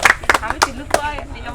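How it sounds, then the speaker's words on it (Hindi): A few people clap at a Diwali general-knowledge quiz game, scattered sharp claps in an uneven rhythm, close by, with voices talking over them. "तुम लोग ताली आराम से बजा सकता है"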